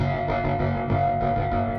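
A heavily distorted, scratchy synth tone from a Bitwig Studio distortion device with delay and comb effects, compressed into a dense, buzzing, eerie drone that holds steady and loud throughout.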